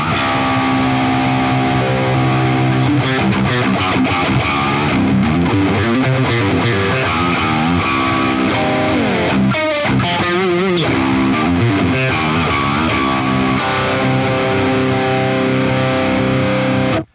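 A driven electric guitar, a PRS Mark Holcomb signature model, with moderate mid-gain crunch plays a chord-based riff, clear and punchy, sustained throughout without any voices.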